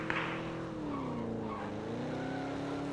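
A car in the video game PUBG accelerates with a rising engine drone while its tires squeal and skid, loud and continuous from start to finish.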